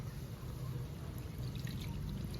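Water poured into a stone grinding mortar to rinse it while cooking mutton drumstick curry, a soft, steady splashing trickle heard close and quiet, continuous for a couple of seconds with no talking.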